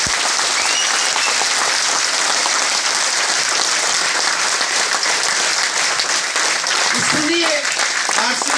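Sustained, dense applause from a seminar audience at an RCM business event, loud and steady throughout, with a brief voice rising near the end.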